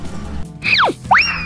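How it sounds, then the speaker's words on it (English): Cartoonish boing effects in a long-vehicles mobile game as a fire truck jumps: a falling springy twang followed by a quick rising one, clear and close with no talk. "The fire truck has jumped"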